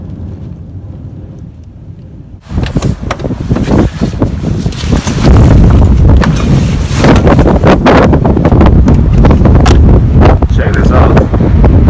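Strong gusting wind during a winter windstorm, faint at first and then roaring loud and steady into a microphone with heavy buffeting, while a person speaks briefly.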